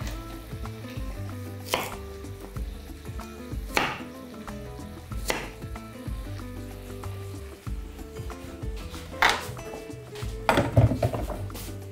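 A knife cutting pork tenderloin into pieces on a board: sharp, separate chops at irregular intervals, with a quicker cluster near the end.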